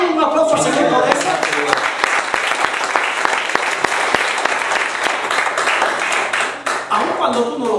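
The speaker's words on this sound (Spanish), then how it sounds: "¿Le podrás dar un aplauso al Señor por eso?" A church congregation breaks into sustained applause with dense, crackling clapping, loud and full, as a voice carries on speaking over it for the whole stretch.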